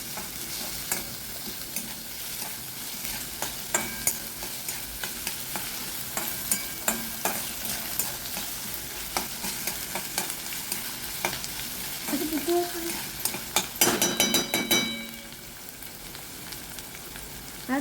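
Garlic, curry leaves and chili frying in a pan are stirred repeatedly, a constant hiss with frequent scraping strokes and crackles, growing busier toward the end, close and unaccompanied by speech.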